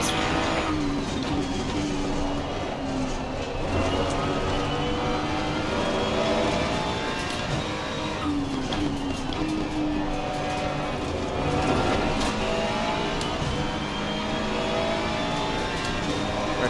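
The BMW race car's engine in the ACC racing video game gives a loud, continuous snarl, climbing in pitch through the gears with sharp shifts and dips into braking. It stays up front under occasional talk, with other cars audible around it.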